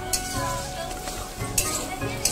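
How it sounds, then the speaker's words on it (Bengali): Spices and salt fry in oil in a pan, sizzling steadily while a utensil scrapes and stirs with a few light clinks at the start and near the end. "সব মশলাগুলো অ্যাড করে নিয়ে ভালো করে আমি কষিয়ে নিচ্ছি বন্ধুরা।"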